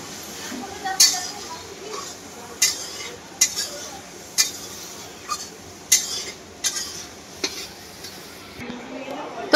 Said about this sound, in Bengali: এবার মশলা কষানো হচ্ছে।